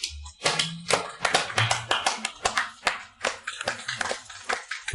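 Applause from guests at a banquet, a brisk patter of hand claps from several people nearby, steady and fairly quiet for a few seconds.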